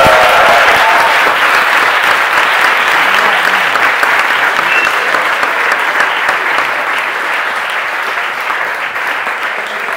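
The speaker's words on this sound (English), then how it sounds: "I think if you can give him a massive round of applause." A large audience gives a sustained, loud round of applause for runner Brendan Foster at an event opening, steady dense clapping for the full stretch that tapers slightly toward the end, with no talk over it.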